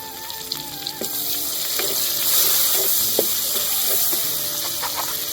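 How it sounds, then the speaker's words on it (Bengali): Chopped onion goes into hot oil tempered with cumin and chilli. The hissing sizzle swells midway and holds steady, with scattered utensil taps close by. "ফোড়নটা একটু ভেজে নিয়েছি, এবার আমি এর মধ্যে এই যে পেঁয়াজ কুচনোটা দিয়ে দেব"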